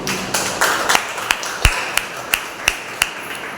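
Applause for a birthday during a Sunday church service: a handful of sharp, scattered claps spaced irregularly over a few seconds rather than a full ovation.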